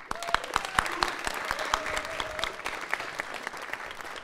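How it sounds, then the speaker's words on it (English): Audience applause after a small-group jazz set at Michigan Tech, a dense wash of many hands clapping steadily in a room, with a few sharper claps standing out near the front, then slowly thinning toward the end. "I would like everybody in this room to give a big round of applause to Drew Kilpala"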